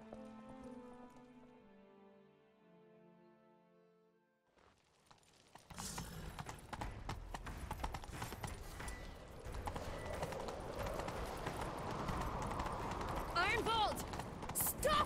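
Horses galloping in The Witcher 3 video game, a steady rapid clip-clop of hooves that rises to loud, continuous pounding after music and a brief quiet start.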